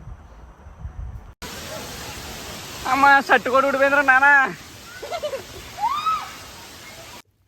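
A waterfall near Rampachodavaram rushes as a steady, close broadband roar that starts abruptly and holds for several seconds while people talk over it.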